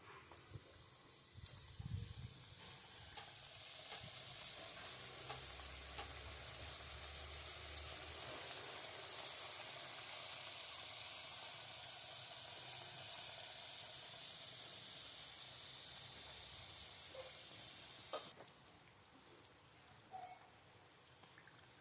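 Karjikai sweet dumplings for Deepavali deep frying in hot oil, a broad steady bubbling hiss held for most of the stretch, quiet and close, with a few low thumps early and fading near the end.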